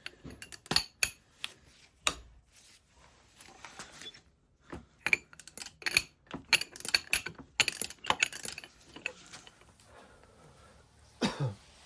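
A ratchet socket wrench with a long socket works on a bolt of a Honda CR125R motorcycle during a top end rebuild, giving bursts of sharp clicking and metallic rattling separated by short pauses, close and fairly quiet.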